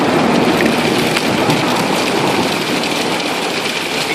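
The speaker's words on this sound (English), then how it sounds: "Yeah, proper thunder." Thunder during a tropical storm, heard as a loud, continuous rumbling roar mixed with heavy rain hammering down close by, with no talking.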